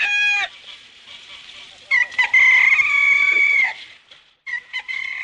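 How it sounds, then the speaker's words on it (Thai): A rooster crows at dawn, several bright, drawn-out calls with breaks between them, fairly close and loud, with no talk over them. "เสียงไก่โหอยู่ไม่นาน"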